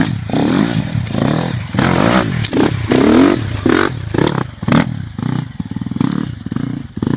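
A KTM Freeride 250 dirt bike ridden on rough, gnarly trails, its engine revving loud and close in repeated bursts, with clattering and thuds from the rocky terrain, and no talk.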